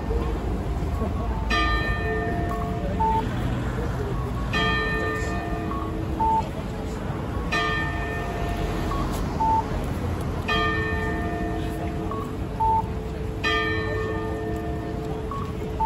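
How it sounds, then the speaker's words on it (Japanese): The bell of the Sapporo Clock Tower strikes eleven o'clock, a series of ringing strokes at steady, widely spaced intervals, each tone decaying slowly over a continuous outdoor city hum. "11時の鐘が鳴りました。"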